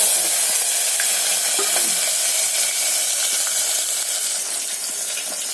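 Small onions fry in hot oil with cumin and fenugreek seeds, a bright continuous sizzle with occasional crackles and stirring taps, close and fairly loud throughout.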